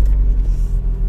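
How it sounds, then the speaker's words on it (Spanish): A car's engine rumbles and vibrates while stopped on a hill, a close, heavy, steady low drone with slight pulsing and no speech. "Me vibra el carro"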